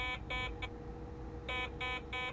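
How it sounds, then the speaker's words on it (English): A dash camera's driver-assistance warning alarm for following too close or lane drifting gives two bursts of three sharp, loud electronic beeps separated by a short pause. "an alarm sounds."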